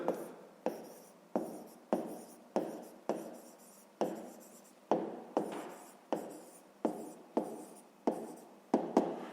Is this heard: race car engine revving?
no